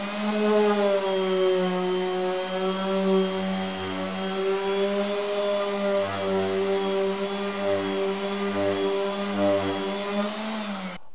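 A power sander working over puttied pine garden bench arms, a steady loud whine with strong tonal hum, dipping and rising slightly as the tool is pressed and moved, running continuously throughout.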